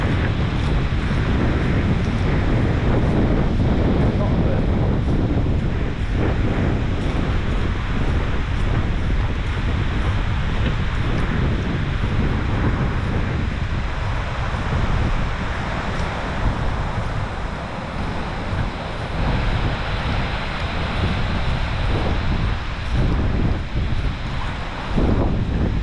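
Strong wind buffets a GoPro microphone outdoors, a loud continuous low roar and rumble that never lets up, with no speech.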